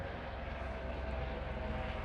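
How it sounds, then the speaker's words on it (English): Helicopters pass overhead, producing a steady, faint engine drone and rotor rumble that holds level throughout, heard alone without talk. "Got these helicopters coming over."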